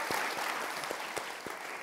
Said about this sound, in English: That's funny that everyone clapped.